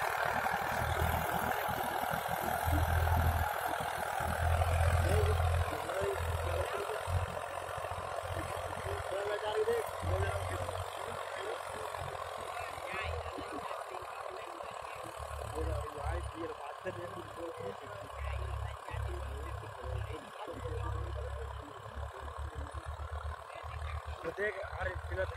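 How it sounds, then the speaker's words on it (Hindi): A Massey Ferguson 1035 DI tractor, a 40 hp machine, runs steadily outdoors with a low, throbbing diesel rumble throughout, fairly distant and even, with background noise around it. "देखिए 10-35-40 एचपी ट्रैक्टर चलता हुआ"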